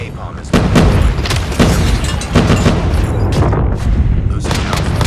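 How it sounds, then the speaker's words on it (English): Napalm explosions in a video game, a dense barrage of deep booms and blasts piling over one another, loud and continuous, with a game announcer's voice mixed in among them. "Enemy napalm has been deployed."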